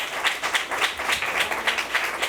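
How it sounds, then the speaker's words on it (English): A conference audience on domestic partner violence gives a round of hand claps. Brisk, fairly close clapping with a pulsing rhythm runs the whole time, with no speech over it. "Let's give him another hand clap."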